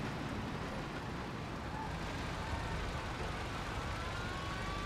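A police car siren wails in a driving video game, steady and moderately loud over continuous engine and road noise.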